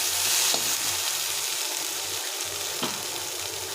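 Fish head curry with spices sizzles and fries in a pan, a steady close crackling hiss with faint stirring scrapes and no voices.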